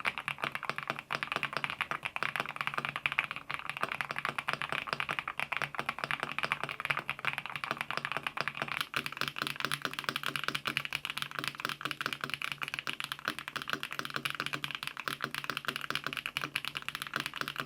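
Typing on an Akko Mineral 02 mechanical keyboard fitted with mirror switches, a dense, steady stream of crisp, clacky keystrokes close up and alone, with no talking.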